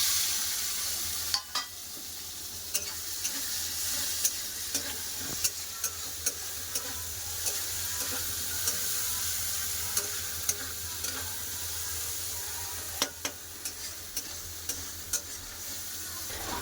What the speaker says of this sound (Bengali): এবার চিংড়ি মাছ ভেজে নেবো দিয়ে দিলাম চিংড়ি মাছ